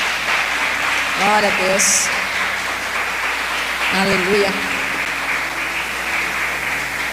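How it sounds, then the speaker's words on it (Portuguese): A church congregation claps together in a continuous, moderately loud wash of applause, while a nearby voice calls out words of praise over it twice. "E aplauda o Senhor Jesus, irmãos"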